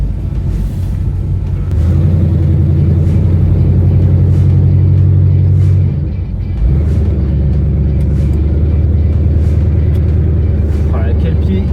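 A 1971 Chevrolet Chevelle V8 drives along with a steady low engine rumble that swells louder for a few seconds, dips briefly, then carries on at a constant drone.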